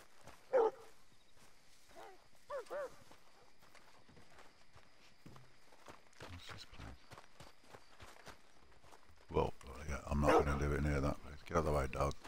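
A dog in Red Dead Redemption 2 lets out a few sharp barks at intervals, mixed with footsteps and hoofbeats, with a denser burst of barking near the end.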